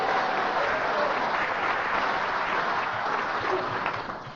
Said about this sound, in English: a round of applause for Colin.